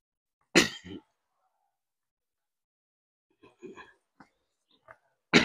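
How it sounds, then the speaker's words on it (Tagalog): A sharp cough bursts out, followed after a pause by a few softer throat sounds and another cough at the end, in an otherwise quiet space. "Ubo-ubutan eh."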